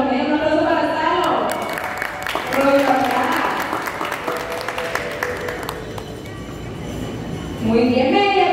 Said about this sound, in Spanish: Un aplauso para Salo.